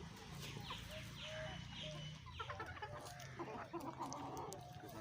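Chickens and a rooster cluck faintly at a poultry farm, a run of short, rising calls followed by scattered overlapping clucks over a low background rumble.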